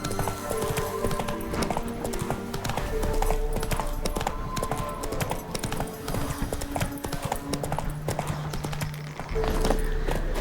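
A horse gallops in The Witcher 3, with rhythmic clip-clop hoofbeats running steadily throughout over in-game music, and a brief whinny.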